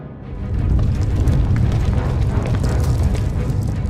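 A deep, sustained rumbling boom from an explosion setting off a chain reaction in a planet's core in a sci-fi video game, swelling quickly and then holding loud and heavy to the end.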